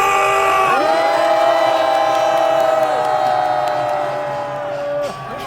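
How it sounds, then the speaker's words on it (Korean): A crowd at a patriotic political rally in Daegu roars and cheers together, a loud sustained shout from many voices that holds for about four seconds and then dies down. "승리를 원한다면 전방을 향해 함성 3초 발사!"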